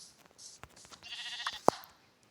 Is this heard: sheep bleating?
yes